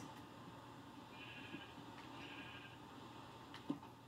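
Faint, distant sheep bleats from Minecraft, a couple of short thin calls over a quiet background hum with no talking.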